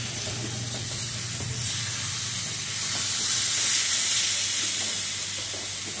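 Radish sautéed with shrimp in a wok, a continuous hissing sizzle with soft stirring scrapes, close and fairly even in level, with a faint low hum underneath and no talking.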